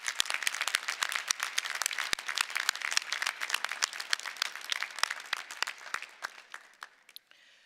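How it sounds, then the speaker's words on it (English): An audience applauds at a university commencement ceremony, with crisp, dense clapping from many hands that holds steady and then thins and fades away over the last second or so. "Let's give them a round of applause."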